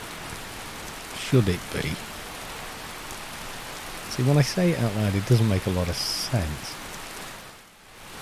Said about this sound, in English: There's some serious rain going on there.